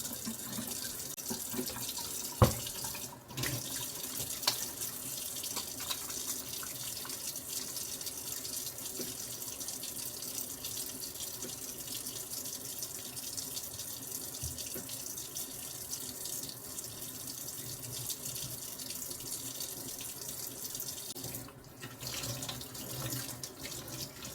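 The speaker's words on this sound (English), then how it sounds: "we're going to wash our hands over here at the sink" Running water from a sink faucet pours steadily while hands are washed before making homemade sourdough bread, a continuous splashing rush with a sharp knock near the start and no speech.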